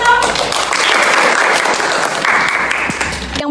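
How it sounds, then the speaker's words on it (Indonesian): Classroom applause from a group of students, dense and steady clapping filling the room for about three seconds before stopping abruptly. "tepuk tangan dong"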